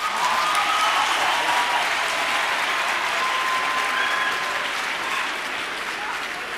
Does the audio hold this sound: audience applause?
yes